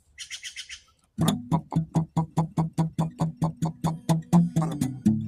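A bird chirps in a quick, rhythmic series of loud, sharp tweets close by, following a brief softer trill, with no talking.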